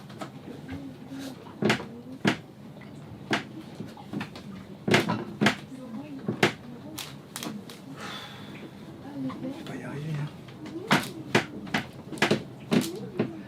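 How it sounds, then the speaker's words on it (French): A wooden plank aboard a sailboat creaks and knocks under load, with a series of sharp, irregular close creaks spaced about a second apart and soft talking between them. "Oh bah c'est ça alors qu'il grince"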